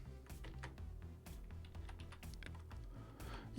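Close, quiet keystrokes on a computer keyboard while typing into a browser address bar, a rapid irregular run of clicks with no talk.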